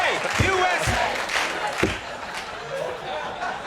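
A late-night talk show studio audience cheers and chants, loud crowd voices rising in rhythmic rowdy bursts with a few sharp hits mixed in.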